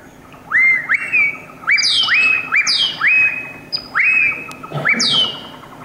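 A recorded bird call played back in a village setting, loud and close, with repeated rising whistled notes and sharp chirps in a steady series. A brief murmur of voices comes near the end.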